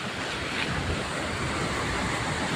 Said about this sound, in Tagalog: At ang alon ho ay hindi yan Ayan Ayan ho at nagngangalit pa rin ang karagatan natin